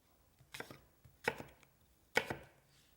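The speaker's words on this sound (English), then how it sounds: "just cut your apple into pieces about the size of the celery" A knife chops an apple into pieces on a board: three distinct, crisp cuts spaced about a second apart, close and fairly quiet.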